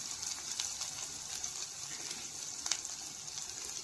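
Onions, already turned a little brown, sizzle in oil in a pan with a steady, even crackle and a few sharper pops, close and moderately quiet, with no voices.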